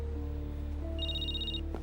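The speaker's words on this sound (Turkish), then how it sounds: "Bu telefonu cevaplamam lazım." A telephone rings in a Turkish drama scene, a short electronic ring tone sounding alone over a low steady room hum.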